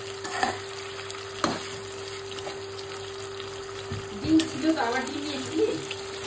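Chicken pieces frying in a pan while being stirred, a soft continuous sizzle with occasional scraping stir sounds and faint background noise.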